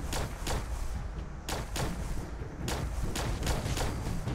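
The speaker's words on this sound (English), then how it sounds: "Just shoot him in the face." Gunfire in the video game Fallout 76, a rapid series of sharp, loud shots in uneven bursts, some in quick succession and others spaced apart, with no voice over them.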